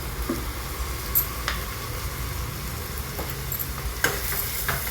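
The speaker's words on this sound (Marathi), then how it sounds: "म्हणजे कांदा लवकर जरा फ्राय होईल।" Onion fries in a pan for paneer bhurji, giving a steady close sizzle with a few light stirring clicks and taps scattered over it.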